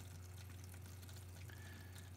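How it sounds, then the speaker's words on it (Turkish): Small electric water pump switched on in an IoT smart irrigation setup, giving a steady low hum with a continuous wash of running water, close and unbroken throughout. "bakın su pompamız çalışmaya başladı"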